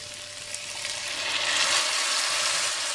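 Chorizo and red wine risotto sizzles steadily in a pan as stock is stirred in, a continuous close frying hiss with faint scraping, no talking.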